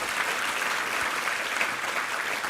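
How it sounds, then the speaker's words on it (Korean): Church congregation applauding during a Sunday worship service, a steady, full burst of many hands clapping together at even loudness throughout, with no voices over it. "우리 하나님께 감사와 영광의 박수 올려드리겠습니다"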